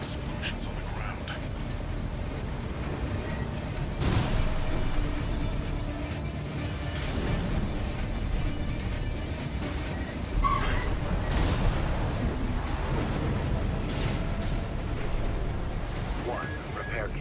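Booming explosions on the ground in the mech game Armored Core VI: Fires of Rubicon, heavy blasts recurring every few seconds over a constant mechanical rumble, with speech over the game audio.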